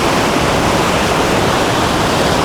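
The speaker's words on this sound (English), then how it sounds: "So the swells are picking up a little bit." Ocean swell surges over a coral reef, a loud, dense rushing wash that stays constant and close for the whole stretch, with no voices.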